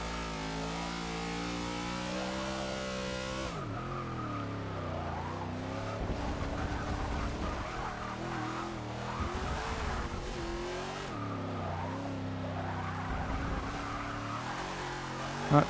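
A NASCAR race car engine in the racing game Forza 6 revs high and shifts gears, pitch dropping at each shift before climbing again, with tire squeal, loud and continuous with no talking.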